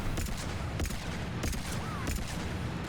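Paladin heavy pistol in Mass Effect 3 firing several slow, spaced shots, roughly one every half second or so, loud over a steady dense game-battle background with no talking.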